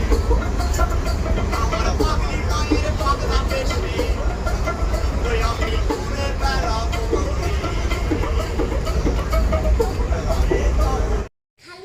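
Inside a moving passenger train on a winter holiday trip, a constant rattling rumble fills the carriage while people talk nearby, then the sound drops away abruptly just before the end.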